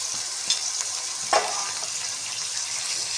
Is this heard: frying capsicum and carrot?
yes